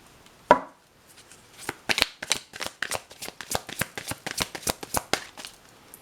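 Oracle cards are riffled and shuffled by hand in a rapid run of crisp, close flutters and taps, preceded by a single sharp knock, with no voices.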